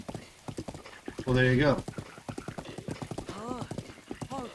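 A horse in the video game Zelda: Breath of the Wild clip-clops along at a steady trotting rhythm and gives one brief whinny, with someone talking over the hoofbeats.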